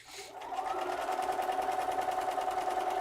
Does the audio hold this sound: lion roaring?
no